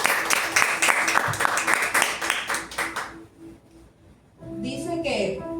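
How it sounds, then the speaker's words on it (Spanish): A church congregation claps loudly in a dense, rhythmic burst for about three seconds before it fades, then music and a voice come in. "Bríndele un fuerte aplauso al Señor"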